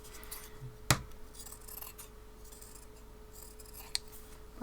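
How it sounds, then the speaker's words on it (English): Scissors trim flimsy fabric into a rough circle, one sharp snipping cut followed later by a fainter second snip over a quiet, steady room hum. "All I'm going to do is trim it into a rough circle."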